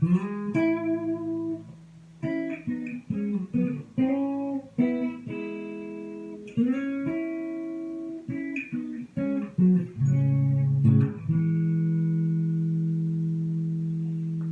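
A solo guitar plays a sequence of picked and strummed chords, ringing out between changes and ending on a sustained chord, with no voices.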